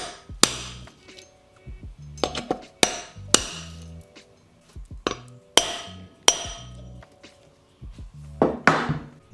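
A hammer drives a wheel bearing back into place on an Indian Chief motorcycle: about a dozen sharp metallic blows, some single and some in quick pairs, with short pauses between and no talk.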